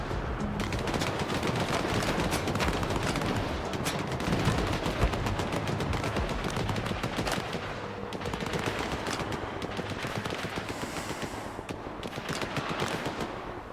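Sustained gunfire in the shooter game S.T.A.L.K.E.R. 2: Heart of Chornobyl, dense rapid automatic bursts and overlapping shots rattling continuously and loudly with no pause.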